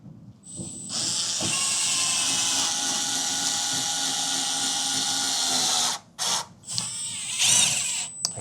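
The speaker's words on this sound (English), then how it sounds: "Quite the power tool you have." A cordless power drill whines steadily at high speed for several seconds, then stops and restarts in short bursts, close and loud.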